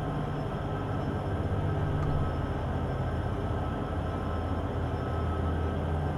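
A heavy freight train engine, locomotive number 8473, labours up a 0.8% grade on Sherman Hill in Train Sim World 2, a steady low rumbling drone with no voices over it.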